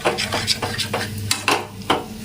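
Capsicum tomato fry with gram flour is stirred in a pan, a spoon scraping the bottom in repeated rhythmic strokes about every half second over a light sizzle, close and clear.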